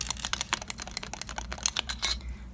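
Quick typing on a squishy keyboard of fluff and paper with keycaps made from a Sprite soda can, dense crisp clacks in rapid uneven bursts, close and alone.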